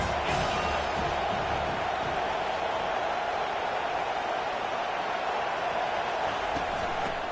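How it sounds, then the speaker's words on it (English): A college football stadium crowd roars and murmurs in a dense, steady wash of noise that holds at a constant level throughout. "This crowd trying to make life miserable for this offense."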